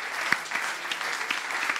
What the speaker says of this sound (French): Applaudissements pour nos 3 candidats.